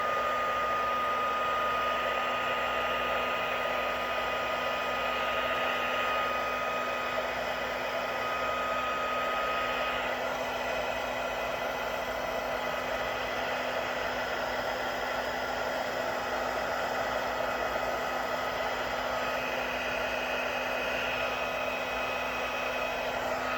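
Heat gun melting embossing powder, a steady loud whooshing blower hiss with a constant motor hum, running unbroken throughout with no talk.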